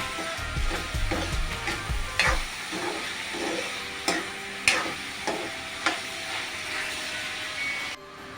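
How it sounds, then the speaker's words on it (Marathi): Chopped tomatoes go into a pan of softened onion and fry with a loud, close sizzle, with a low thump at the start and scattered sharp spoon scrapes and clanks as the mixture is stirred. "कांदा नरम झाल्यावर दोन टोमॅटो मी कापून घेतले आहेत ते पण टाकूया"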